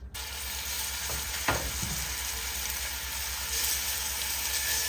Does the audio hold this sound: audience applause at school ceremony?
no